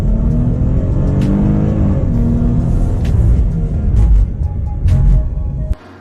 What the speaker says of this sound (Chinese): 一定要有很好的给油的声音